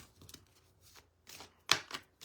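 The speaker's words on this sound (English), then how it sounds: "I'm just shuffling the card." Oracle cards being shuffled by hand, a few soft papery riffles followed by a louder, crisp burst near the end, close and quiet with no talking.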